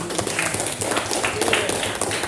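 Schoolchildren in a classroom clap their hands together in a busy, uneven patter of overlapping claps, fairly close and steady for a couple of seconds.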